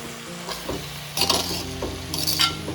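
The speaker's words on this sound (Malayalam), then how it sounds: "ജസ്റ്റ് ഫോർക്ക് കൊണ്ട് ഇളക്കി കൊടുക്കുകയാണ്" A fork stirs anchovy fish peera in a pan over a low flame, with scraping strokes and light sizzling close by and no speech.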